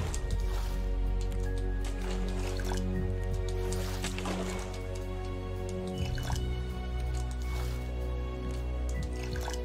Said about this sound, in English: I need to get this water thing filled up again